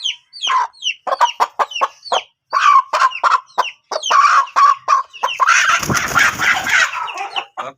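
A chicken clucks rapidly and loudly up close, a choppy string of clucks, with a brief rustling flurry near the end.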